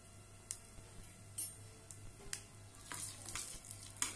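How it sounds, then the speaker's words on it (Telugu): Dried red chillies and asafoetida frying in hot oil for a green gram and mango chutney give a faint, steady crackle with scattered small pops and ticks throughout. "ఎండుమిర్చి అనేది దీంట్లో కొంచెం ఎక్కువ పడుతుంది వీటిని ఫ్రై చేద్దాం ఇందులో ఇంగు వేసుకుందాము ఇది ఫ్రై అయిపోతున్నాయి"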